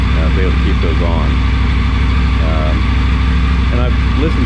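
A Triumph Tiger 900 motorcycle fitted with a Scorpion exhaust idles with a loud, steady low rumble throughout, close up, while someone talks over it.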